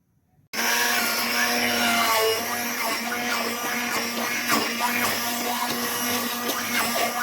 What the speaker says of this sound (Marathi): आता हे हँड मिक्सीने मी बारीक करून घेते